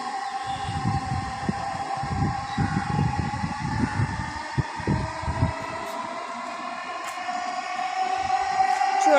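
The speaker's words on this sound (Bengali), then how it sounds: "এই মেট্রো আসছে, মেট্রো" A metro rail train passing near a rooftop garden, a steady rumbling hum with rhythmic low rolling thumps from the wheels and a sustained whine, growing slightly louder toward the end.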